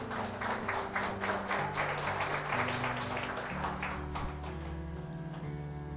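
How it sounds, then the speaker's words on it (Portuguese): A church congregation claps together over sustained instrumental music, giving a steady, rhythmic run of hand claps at a fairly even pace. The clapping stays moderately loud and runs throughout. "Dê uma salva de palmas para o Senhor Jesus"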